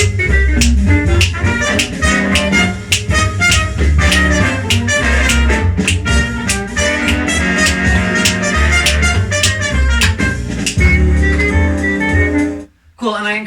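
A jazz recording with a clarinet melody, a busy, loud ensemble of horn lines over a driving rhythm section, playing continuously before cutting off abruptly near the end.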